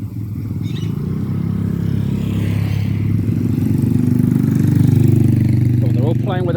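Motorbikes idle on a hot street by a small canal, their engines a steady, close, low rumble that swells slightly toward the end, with a brief voice near the close.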